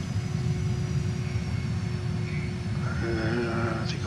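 A JAS-39 Gripen fighter jet taxiing at Dubbo, Australia, its engine giving a loud, steady close roar with a constant whine, plus a few brief tonal chirps near the end.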